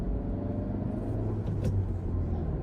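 A manual car creeps off from a complete stop in first gear, giving a steady low engine rumble with a slight rise in revs near the middle, heard from inside the cabin.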